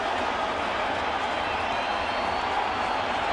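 Sellout baseball stadium crowd at a Yankees opening day game against the Tigers, a dense, steady roar of thousands of voices with scattered clapping, broad and continuous throughout.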